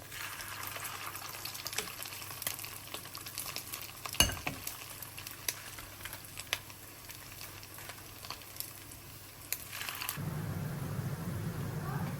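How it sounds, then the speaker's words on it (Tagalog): Homemade pork kikiam fries in a pan over medium heat with a soft, steady sizzle. A few clinks and taps from stirring sound over it, and the sizzle grows louder near the end. "Prituhin lang natin to in medium heat."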